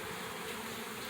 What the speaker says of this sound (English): That's a slab of bees on there.